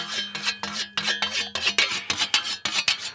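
A Mylander 2 honing stone is drawn quickly along an 85 cm Nordic grass scythe blade in the field: loud, close, rasping strokes in a brisk rhythm, each a short scrape.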